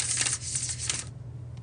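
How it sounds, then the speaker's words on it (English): A tarot card deck given a bridge shuffle, a quick close ripple of cards riffling together for about a second, followed by a soft settling sound. "That was the bridge shuffle."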